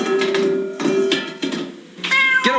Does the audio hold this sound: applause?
no